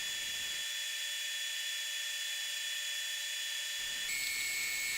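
Rotary tool with a carbide tip grinding down an opal ring, a steady high-pitched whine that holds for several seconds and shifts tone near the end, close and alone.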